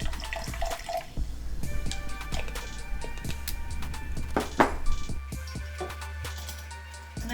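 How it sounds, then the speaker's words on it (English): Club soda pours into a cocktail glass with fizzing, splashing and dripping, followed by a few light clinks of glass and ice; faint and close, with no one speaking. "So when we pour this in the glass, we start out with a little bit of club soda on the bottom."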